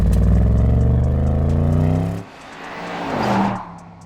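Bentley Bentayga Speed with a 4-litre twin-turbo engine accelerating hard, a loud rising engine roar that cuts off abruptly, then a quieter whooshing pass fades out.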